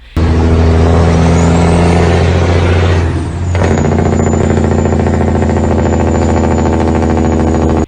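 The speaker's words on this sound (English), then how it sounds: "flipping the Jake brake switch and waiting for that truck to vibrate and get loud" A truck's Jake brake engages, and the diesel engine answers with a loud, rapid, throbbing roar and heavy vibration. A brief dip and pitch shift come partway through before the harsh drone carries on at full volume.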